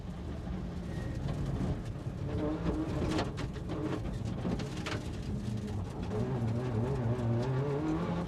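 A World Rally car competing in the 2000 Donegal International Rally in Ireland, its engine note climbing and falling through gear changes and revs, droning steadily over several seconds amid outdoor background noise.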